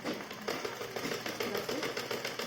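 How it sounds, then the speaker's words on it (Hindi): A sewing machine stitches a folded strip onto a blouse, producing a steady, rhythmic mechanical whir that runs unbroken and close by with no talking. "इस पर हम सिलाई डाल देते हैं।"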